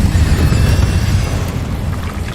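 The Incendio fire spell from Hogwarts Legacy gives a loud, dense, low roaring rumble that goes on steadily for a couple of seconds and eases off slightly at the end.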